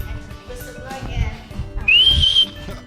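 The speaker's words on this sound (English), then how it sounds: "Whistle again." A whistle blown once during a Caribbean cultural-forms theatre arts session, a short shrill rising tone near the end, preceded by people talking over soft background sounds.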